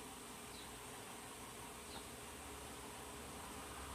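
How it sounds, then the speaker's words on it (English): Honey bees hum around an open beehive in a dense, continuous drone that is faint and even, with no voices. "A ton of activity, a ton of bees."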